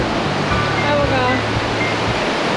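Låtefoss, a double waterfall in Norway, pours as a steady, loud wash of rushing water. Faint voices and tonal sounds are partly masked beneath it.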